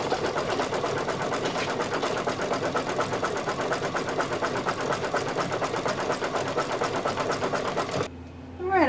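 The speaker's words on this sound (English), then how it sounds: "Now it's time for the satin stitches for the shoulders and around the hat." An embroidery machine hammers out satin stitches on a Santa table runner in a fast, steady mechanical rhythm at close range, then stops abruptly near the end.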